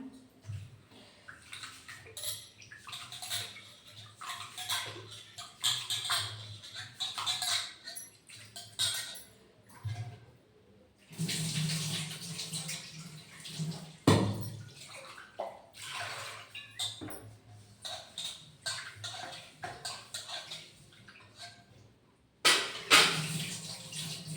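Rice is washed in a vessel under a running kitchen tap, with a continuous splash and swish of water, a brief pause partway through and a final burst of gushing water.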